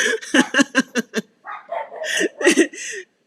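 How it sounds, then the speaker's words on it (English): Dogs barking at a neighbor, with a quick run of sharp barks followed by a few louder, strained barks and yips, close and loud. "You can't bark at somebody for going into their own home."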